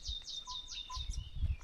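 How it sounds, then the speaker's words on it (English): Small birds chirp in repeated quick descending tweets in a rural village area of Tetu, Nyeri, Kenya, clear and fairly close over a low rumble of background noise, with no talking. "There's some birds"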